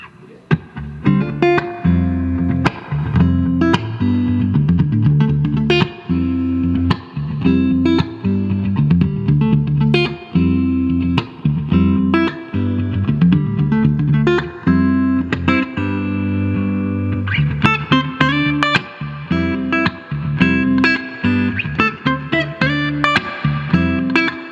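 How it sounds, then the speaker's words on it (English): A clean electric guitar, a 1972 Fender Telecaster on its neck pickup through a 1960s Fender Twin Reverb amp, plays chords and single notes, warm and steady, with ringing sustain and no talking. "We're also going through a 1960s Fender twin reverb amp, starting off with just the neck pickup clean"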